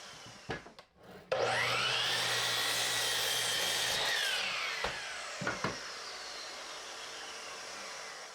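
Wood planks feed through a jointer, a loud steady whining cut that holds for about three seconds and then tapers, with a few knocks and bumps before and after.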